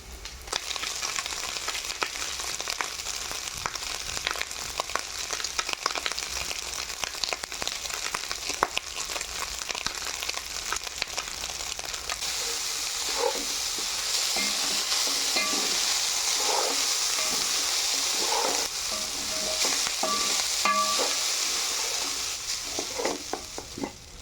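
Cooled cooked rice is tossed into hot oil for fish fried rice, giving a soft steady sizzle with scraping stirs of a spatula. The frying grows louder and brighter partway through, with occasional clinks.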